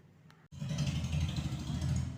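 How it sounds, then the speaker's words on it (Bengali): A motorbike engine rumbles nearby, starting abruptly after a brief quiet moment and holding a steady low drone for the rest of the clip with no one speaking. "বাবা, বাইকের কি আওয়াজ!"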